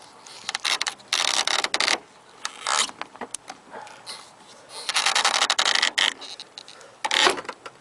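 A socket wrench twists the nut on a dogbone engine mount of a GM 3800 Series II engine, giving bursts of mechanical clicking and ratcheting in uneven spurts with short pauses between them.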